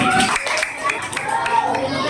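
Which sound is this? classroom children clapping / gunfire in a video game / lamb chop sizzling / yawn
classroom children clapping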